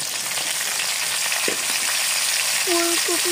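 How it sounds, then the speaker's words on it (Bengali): Cauliflower florets frying in hot oil for a vegetable khichuri, giving a steady close sizzle throughout, with a brief utensil stir midway and a couple of thin tonal beeps near the end. "লবণ দিয়ে ফুলকপিগুলোকে ভেজে নেব"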